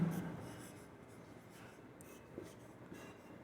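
A pen or marker scratching and squeaking steadily across a board during a class 10 maths lesson, faint and close, continuous strokes with no talking.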